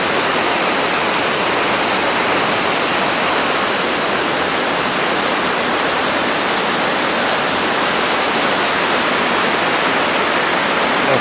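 Mountain stream in the Aspe Valley of the Pyrenees, a loud, steady rush of flowing water that fills the whole scene without letting up, and no voices are heard.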